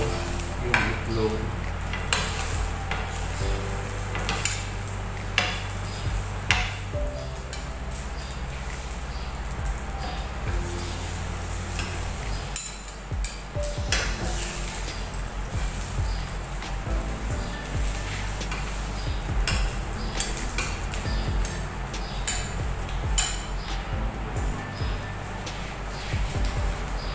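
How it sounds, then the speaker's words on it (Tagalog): An egg being folded in a hot frying pan while making egg toast: a steady close sizzle of frying runs throughout, with scraping spatula strokes and light clinks of utensil against the pan. "Tapos, tupiin natin ito yung itlog."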